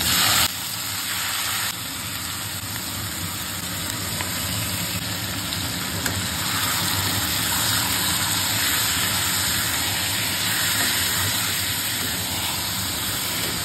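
Whole white cumin seeds sizzling in hot mustard oil, a loud steady hissing crackle that runs continuously without pause.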